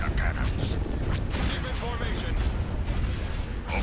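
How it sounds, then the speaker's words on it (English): Laser cannons fire in the space strategy game Star Wars: Empire at War, a dense barrage of booming blasts and crackling shots over a constant rumbling battle din, with a voice talking faintly in the mix. "Open fire on those laser cannons."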